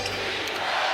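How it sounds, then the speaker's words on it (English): A basketball crowd at Madison Square Garden during a Knicks versus Warriors NBA game chants for defense, a brief, loud, roaring wall of many voices filling the arena. "Familiar chant of defense from the Garden crowd"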